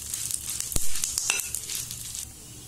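Red chilies and curry leaves roast in a pan, giving a steady close sizzle with scraping stir strokes and a few sharp clinks from a spoon against the metal.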